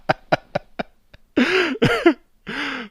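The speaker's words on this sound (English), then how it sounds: "You didn't even realize I had a coughing fit" A person has a coughing fit: several sharp, close coughs in quick succession, then longer, rougher hacking bursts with a strained, voiced throat sound. No one speaks.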